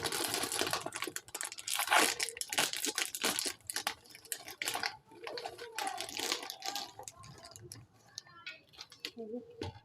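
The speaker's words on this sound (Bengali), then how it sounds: "সুন্দর করে ধুয়ে পরিষ্কার করে নিতে হবে।" Chhotu (a vegetable) being washed by hand in water, with splashing, rubbing and crinkling sounds coming close and fairly loud throughout, busiest in the first half, then lighter handling with brief pauses.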